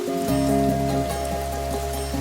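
Rain falls steadily in a scene from the Hindi action film Baaghi 3. It makes a constant hissing wash mixed with sustained tonal music, and nobody speaks.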